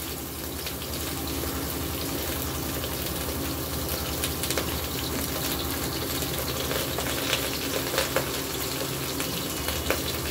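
Food frying in a pressure cooker with very little oil produces a continuous close sizzle and crackle with scattered sharper pops, steady and fairly loud, with no talking.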